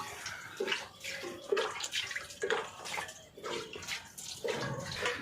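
Hand milking of a Nili-Ravi buffalo into a bucket, with steady rhythmic squirts of milk striking the pail close by, repeating roughly every second with no talk.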